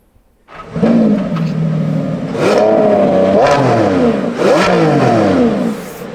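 A Lamborghini Revuelto V12 engine revs loudly several times through hexagonal tailpipes, the exhaust roaring up and falling back in repeated surges, close by.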